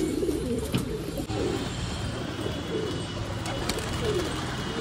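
A Siraji pigeon coos in soft, repeated low phrases at close range, with a steady faint background hiss.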